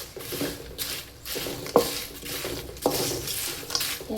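Spoon stirring spices around a pan for ragi poha, a steady close scraping swish with a couple of sharper knocks against the metal, continuous over a few seconds.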